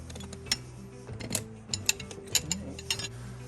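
A tire iron tightens snow plow fittings, producing a series of irregular metallic clicks and ratcheting taps, moderately close and fairly quiet, with no talking.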